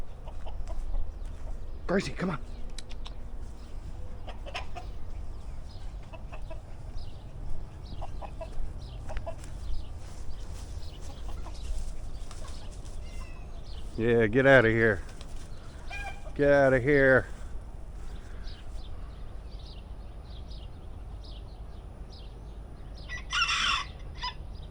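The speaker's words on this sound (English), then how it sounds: "Go get that rooster." A rooster clucks and crows at a farm, with two clear bursts of calls in the middle and a short one near the end, while someone talks to a dog nearby.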